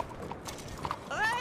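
A horse's hooves clip-clop in a short, steady patter at moderate distance, with faint voices and background activity around it.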